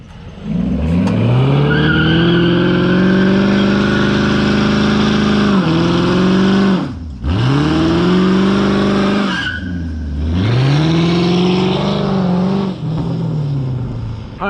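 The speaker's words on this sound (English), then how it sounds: "Max is here in the Hemi." Hemi-powered car arriving and driving up, a loud, close engine whose pitch rises and falls through several revs and shifts, with brief dips as it slows, loud throughout.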